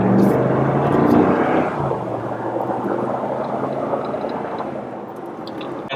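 Interior drone of a rebuilt 2019 RAM 1500 pickup on a test drive, a steady low engine and road rumble with a smooth gear shift, close and moderately loud, with no talk.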